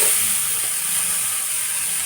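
Grated papaya sizzles in a hot pan with browned onions for a Kerala thoran, a loud, steady frying hiss that runs throughout without speech.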